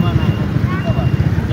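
A motorcycle ridden along a road, its steady low engine drone mixed with wind buffeting the microphone, close and loud, while people talk over it.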